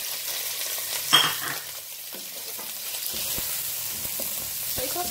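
Beef goes into a pan of browned onion and garlic, setting off a sudden loud sizzle that settles into steady frying with a few utensil clicks and stirring scrapes.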